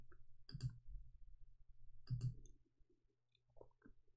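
Mouse clicks on a computer while using Google Translate, two sharp close clicks about one and a half seconds apart, with faint softer clicks afterward in an otherwise quiet room.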